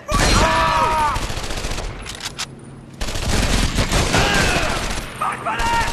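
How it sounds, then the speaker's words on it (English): Rapid MG-42 machine gun fire in a World War II combat video game, dense and loud, with battle noise and shouted voices in between bursts. "It's an MG-42!"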